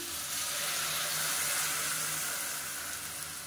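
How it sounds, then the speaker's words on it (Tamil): Water poured from a tumbler into a pan of frying kara chutney on the stove, a steady broadband hiss and sizzle that holds fairly evenly throughout with no talking. "சேர்த்துட்டு கொஞ்சமாக தண்ணி விட்டுக்கலாம்."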